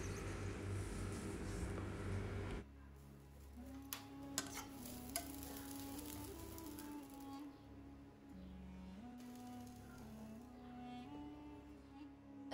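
Cashews, raisins and grated coconut are sautéed in ghee in a pan, a faint low sizzle with occasional soft scrapes and taps of stirring, quiet and close with no voices.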